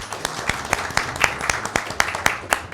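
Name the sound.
audience applause welcoming guests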